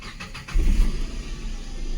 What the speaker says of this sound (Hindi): सबसे पहले मैं गाड़ी को यहाँ पे स्टार्ट कर लेता हूँ